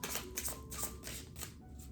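Law of Attraction cards are shuffled close by, loud papery riffles pulsing in quick repeated bursts about every quarter second, filling the short stretch without any voice.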